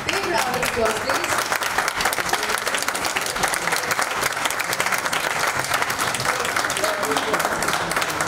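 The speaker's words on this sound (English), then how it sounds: "Big round of applause, please." Dense, sustained applause from the audience at a book launch, loud and unbroken for the full length.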